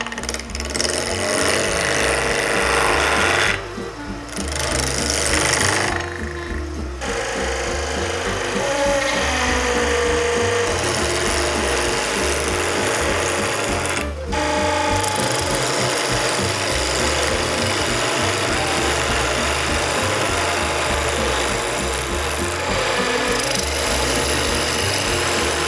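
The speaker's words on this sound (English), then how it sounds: "Grab a gouge and there we go." Wood is carved with a gouge to shape a small wooden pendant, producing a loud, close, continuous rough scraping and grinding that runs almost throughout, broken by short pauses around the fourth, seventh and fourteenth seconds.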